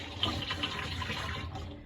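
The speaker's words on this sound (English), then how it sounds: "you want to go ahead and add your water in right away" Water poured into a hefty cooking pot for chorizo rice and potatoes, a steady, soft splashing stream running throughout and easing off near the end, with no talk.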